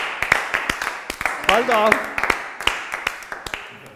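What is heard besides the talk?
audience clapping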